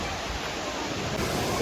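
A waterfall in Southern Bosnia and Herzegovina gives a steady, even rushing wash, fairly soft and distant, with no voices over it.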